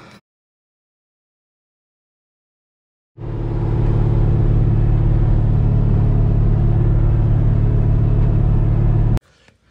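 An LS-swapped Chevrolet S10 pickup's V8 cranks and catches after a few seconds of silence, then settles into a loud, steady, rumbling idle up close, missing on one cylinder from a loose coil wire, before cutting off abruptly.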